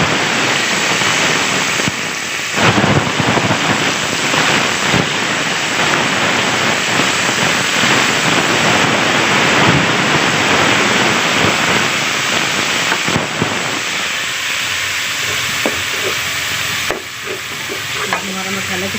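Boiled onion water with ground spices, turmeric and salt poured into hot oil for a matar gajar aloo curry, a loud, continuous rain-like sizzle and frying hiss with stirring, easing slightly toward the end.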